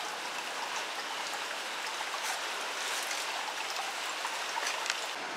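Steady rain falls in Ipoh after a spell of hot, dry weather, a continuous even patter with scattered drop taps, moderately near and without voices.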